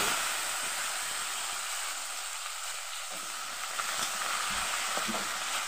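Small cut potato pieces frying in a pan with oil: a steady, close hiss and sizzle that holds throughout, with a few faint stirring clicks and no voices.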